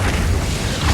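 A loud, deep rumbling fire-spell explosion from the Hogwarts Legacy video game, a single sustained boom lasting about a second, heavy in the low end.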